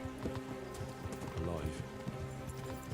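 Horse hooves clip-clop at a canter in the medieval game Kingdom Come: Deliverance, a steady rhythmic beat over game music and ambience, with a brief whinny-like rise midway and a voice talking over it.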